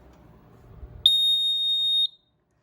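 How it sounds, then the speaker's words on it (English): After a faint low rumble, a Grinnell/Autocall C-2224 fire alarm panel sounds a single piercing electronic alarm tone steadily for about a second, then cuts off into silence. "if I pull those pull stations, the panel will go into alarm"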